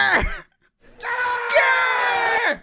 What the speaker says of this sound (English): Let me listen to the Dan Campbell scream.